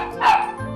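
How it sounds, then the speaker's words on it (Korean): A pet dog gives a single sharp, close bark indoors, a short loud yip-like burst with a slight whine. "이때 짖기 시작하는 빼로"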